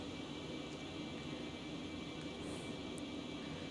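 Concorde jet engines at reduced throttle in the X-Plane 11 flight simulator, a steady, loud broad roar holding an even level from start to finish with no talk over it.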